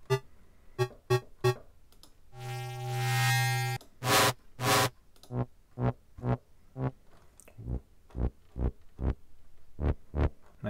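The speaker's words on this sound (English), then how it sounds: "Nice bass sound there." Synthesized bass from Ableton Operator, heard as a run of short percussive plucked hits with one longer sustained buzzy tone early on, rhythmic, faint and alone.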